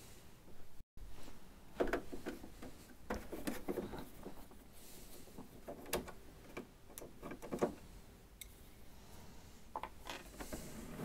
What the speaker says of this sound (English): Then what we're going to do is remove these two screws.